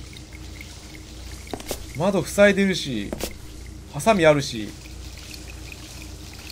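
A shower runs in the horror video game Nanashi no Game, a steady low hiss of falling water beneath a Japanese voice talking in two short bursts.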